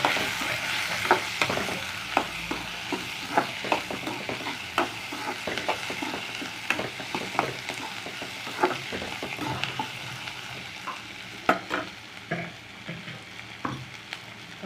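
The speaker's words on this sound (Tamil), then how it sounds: "பச்சை மிளகா வந்து போட்டுக்கலாம் ஒரு அஞ்சு நிமிஷம் நல்லா வதக்கி வச்சுக்கோங்க" Green chilies sautéing in hot oil for a dried anchovy (nethili karuvadu) fry, with a steady sizzle under repeated scraping and tapping of a stirring spoon against the pan.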